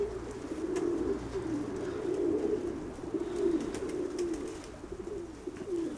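A black-grey pigeon coos softly nearby in repeated low, throaty rolling phrases at a gentle steady rhythm. Faint ambient noise sits underneath and no one speaks.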